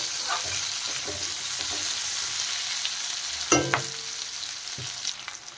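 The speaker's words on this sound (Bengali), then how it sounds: "আলু কিন্তু প্রথমে হালকা ভালো করে ভেজে নেব" Chunks of potato frying in hot oil with onions, a steady close sizzle with occasional stirring clatter from a spatula against the pan, no voices.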